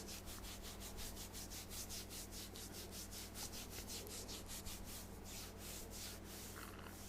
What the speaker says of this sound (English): I move my hands vigorously up and down your neck to create friction